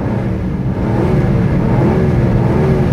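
A Rover P6 3.5 V8 engine drones with a deep, steady growl, rising slightly as it revs, loud and close with no voices.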